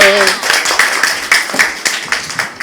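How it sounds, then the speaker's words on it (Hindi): Brief applause from an audience at a trainers' school session in Karachi, a dense burst of hand claps that thins into scattered claps over about three seconds. "तालियां बजाओ इनके लिए।"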